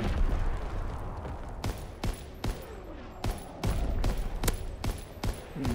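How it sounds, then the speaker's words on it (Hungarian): Rapid bursts of light machine gun fire in a video game, a dense rattling fusillade broken into roughly a dozen sharp volleys with short gaps, loud and close over a rumbling background. "Ez is szépen darál ezzel az LMG-vel."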